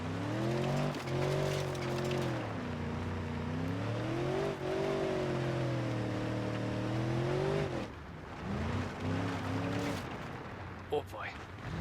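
A 5.5 liter truck engine in the video game BeamNG.drive revs with a steady, loud drone that rises and falls in pitch through repeated surges, close and continuous, with someone talking over it.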